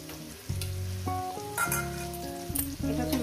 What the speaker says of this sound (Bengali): পেঁয়াজ কুচি দিয়ে দিলাম। পেঁয়াজটাকে আমি 2-3 মিনিট ভেজে নেব।